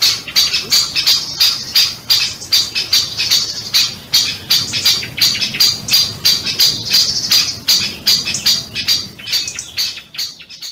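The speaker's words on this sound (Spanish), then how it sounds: "son los pájaros carpinteros y al del fondo se oye que están los pollitos dentro" Woodpecker chicks call from inside a nest hole in old oak and holm oak woodland, a rapid run of sharp, high, rhythmic begging chirps repeating about twice a second, loud and close, fading out near the end.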